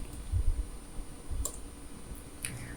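A computer mouse clicked while editing in Photoshop, giving two or three sharp, isolated clicks over a low muffled background.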